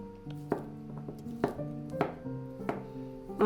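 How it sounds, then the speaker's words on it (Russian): A knife chops fresh cucumbers on a board, trimming the ends and slicing them into rounds or half-moons. About half a dozen sharp, close taps land in an uneven rhythm, with no talking. "Теперь пару огурчиков свежих, сейчас уже как раз пошли огурчики, отрезаем у них кончики и нарезаем"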